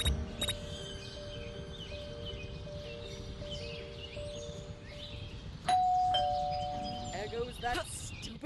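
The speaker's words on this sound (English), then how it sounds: "There goes that stupid bell again!" A doorbell rings in the Scary Teacher 3D video game: a sustained chime enters partway through and lingers over steady game ambience and background chatter, with an earlier short tone near the start.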